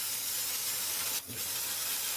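An airbrush spraying paint during a model build, a steady close hiss of air that runs continuously with a brief dip partway through, heard alone without voices.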